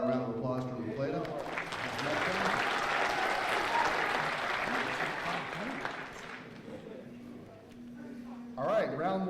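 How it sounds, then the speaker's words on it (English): An audience at the It's Academic 2017 quiz show applauds the La Plata team with sustained clapping throughout, rising at the start, holding steady, then fading near the end, with a brief voice under it at the close. "how about a round of applause for La Plata?"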